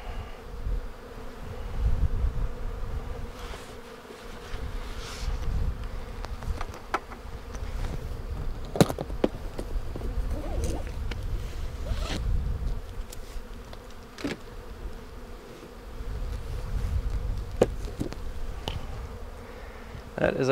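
A swarm of honeybees in a wooden hive box buzzes steadily and fairly close, a continuous droning hum with passing individual bees rising and falling, and no talking.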